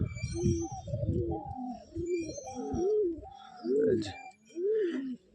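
Giribaz tumbler pigeons coo in a string of rolling, throaty calls, loud and close, each swelling and falling with brief gaps between them.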